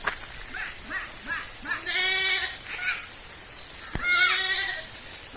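Goats bleating while being chased through a rural Tamil Nadu village, several wavering bleats close by over steady outdoor background noise.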